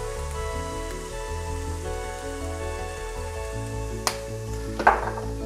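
Spiced chickpeas stirred in a sizzling pan, a faint continuous frying hiss under steady background music, punctuated by a couple of brief scraping clicks near the end.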